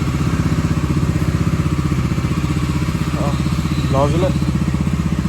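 A motorcycle engine idles steadily after starting, a continuous low rumble with a regular pulse filling the whole stretch, while a voice speaks briefly over it.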